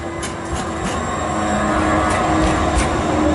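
A light rail train passes in Portland's Lloyd District with a loud, steady rumble and rolling wheel noise that swells slightly as it goes by, with faint high squeals on top.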